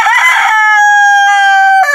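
A rooster crows loudly and close by on a farm, one long sustained cock-a-doodle-doo with a rough start and clipped ending.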